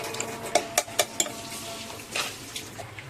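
Meat being mixed into dal in a cooking pot on a gas stove, a utensil knocking and clinking against the metal pot in a few sharp, close taps followed by softer scraping stirs.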